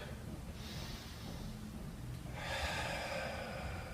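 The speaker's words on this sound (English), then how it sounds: "Breathing in and out through the nose." Slow breathing in and out through the nose during a beginner power yoga flow, with soft airy inhales and exhales close to the microphone and no talking.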